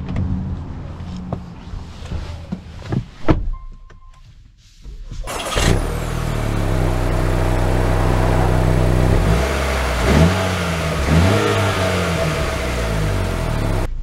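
A 2024 Acura RDX pulls away and accelerates, its engine note rising steadily through several gear changes, loud and close inside the cabin after a quieter stretch at the start.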